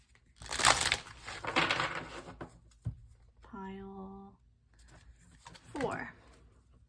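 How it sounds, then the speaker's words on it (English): Oracle cards shuffled by hand for a tarot-style reading, giving short papery riffling bursts near the mic, mixed with speech and a brief sung tone. "and let's shuffle one more time."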